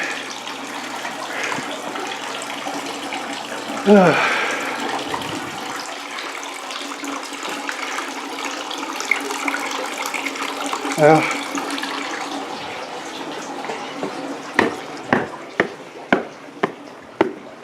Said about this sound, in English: The water's running there.